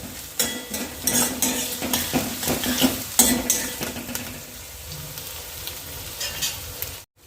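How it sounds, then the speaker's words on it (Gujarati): Boiled peas and chopped vegetables being stirred in a pan for street-style Maggi masala, with repeated scraping spatula strokes and clinks over a soft sizzle, close and fairly loud, then fading near the end. "આ બધું હવે મિક્સ કરીને થોડું ચડવા દઈશું।"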